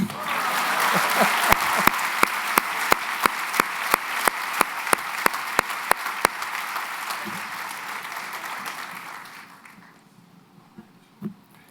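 Audience applause fills a white coat ceremony for Harvard medical and dental students, loud and steady for about nine seconds with a few sharp individual claps standing out early, then fading away.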